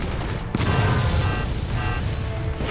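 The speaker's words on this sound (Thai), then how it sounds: "นี่ฮะเดี๋ยวเรายิงซ้ำไปตรงนี้ครับ" Weapons in the fort-building strategy game Forts fire repeatedly, a dense loud barrage of booming shots and impacts layered over one another without pause.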